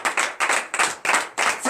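A church congregation claps together in acclamation, five loud, even rounds of dense clapping in a steady rhythm with short gaps between them.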